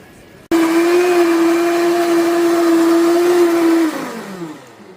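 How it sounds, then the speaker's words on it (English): A blender whirs loudly at a steady pitch for a few seconds after switching on, then winds down as the motor stops. "So I'm washing the blender."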